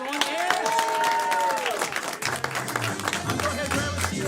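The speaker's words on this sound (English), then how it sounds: "clap for her, everyone" An event audience claps for a volunteer, the applause running steadily beneath a host's talking and a brief cheer.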